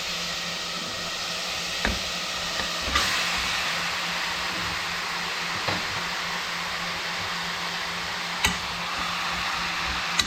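Washed chicken sizzling in a hot pan for an Andhra-style curry, a steady close hiss with a few faint clinks and taps above it.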